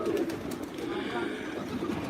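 Homing pigeons coo in a low, continuous murmur, about 140 birds together, with faint background noise.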